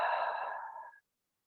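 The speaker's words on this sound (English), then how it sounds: "taking a few more inhales and exhales" During a yoga session, one slow deep exhale is heard as a soft, breathy rush that lasts about a second before falling into silence.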